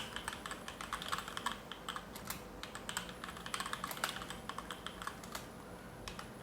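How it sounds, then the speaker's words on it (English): Typing on a HyperX Alloy Origins mechanical keyboard: quick, uneven runs of crisp key clicks and clacks close up, with brief pauses between bursts and no one speaking. "Now let's see how the keyboard sounds"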